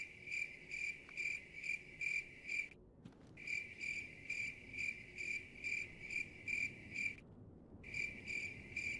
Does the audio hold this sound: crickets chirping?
yes